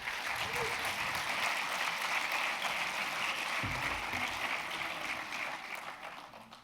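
An audience at the FIFF 2025 film festival award ceremony applauds as the festival president is called onto the stage, a continuous wash of clapping that stays dense and even before tapering slightly toward the end.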